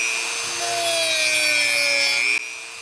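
A sanding roll spun on a rotary tool smooths the wooden loading port of a shotgun, giving a close, high whine with a rasping grind that holds steady for a couple of seconds before suddenly dropping off.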